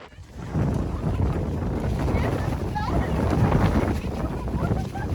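Gusty wind on a snowy mountain trail in the Dolomites buffets the microphone in a steady roar with low rumbling, continuous for several seconds and fairly loud.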